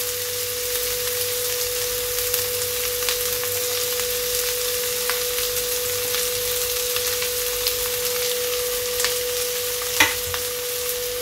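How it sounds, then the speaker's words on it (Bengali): Chopped onion with crushed garlic and chopped chilli frying in oil in a pan for a dhaba-style dal tadka, a steady close crackling sizzle throughout with a soft clink near the end. "এটাকে আমি ভালো করে ভাজা করে নিচ্ছি।"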